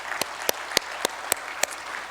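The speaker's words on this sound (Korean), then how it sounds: "우리 큰 박수로 한번 격려하겠습니다" A handful of people clap for a church worship team at a Christmas service, six sharp, well-spaced claps over quiet room tone.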